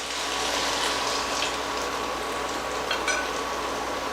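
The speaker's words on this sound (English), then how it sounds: "And remember, keep stirring." Shrimp risotto simmers in broth while being stirred, giving a steady, close bubbling hiss that stays even and continuous throughout, with no voices.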